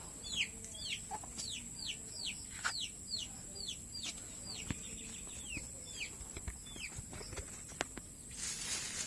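Chickens in a backyard coop at feeding time give repeated short, bright chirps and soft clucks, moderately distant. Scattered light scratching and rustling sit beneath them.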